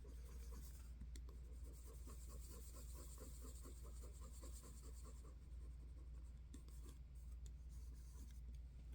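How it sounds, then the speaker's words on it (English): Eraser rubbing over a pencil drawing on paper, a quick rhythmic back-and-forth scrubbing, faint and close, with brief pauses. "I'm going to lightly erase it"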